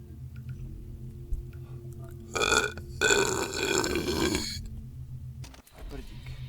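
Long, loud, gurgling burps from one person stretch across several seconds, with a short break between two deep belches, heard close up with some faint background noise.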